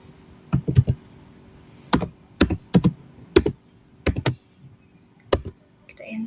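Keys clatter on a computer keyboard as a terminal command is entered during a Linux user and group management lab, in several quick bursts of clicks separated by short pauses, close and clear with no talking.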